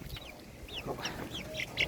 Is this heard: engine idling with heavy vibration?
no